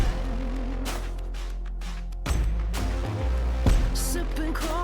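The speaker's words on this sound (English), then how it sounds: "A little music for you while you wait." Recorded music plays as hold-over filler during a break, a steady full-band backing with rhythmic beats and sustained tones continuing without speech.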